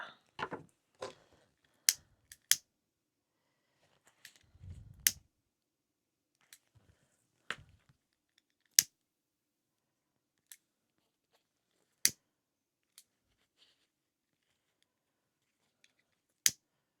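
Scissors trimming off excess clear TPU fabric from a sewn wristlet: a sparse series of sharp, crisp snips spaced irregularly across a quiet room, with a few soft rustles of the plastic between cuts.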